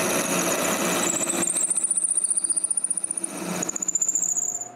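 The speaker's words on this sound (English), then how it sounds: "I begin by drilling a hole right through in the head to the size of the brass rod." A power drill bores a hole through a wooden tripod head to fit a brass rod, its loud motor whine steady and close, with a pulsing, juddering bite as the bit cuts through the wood.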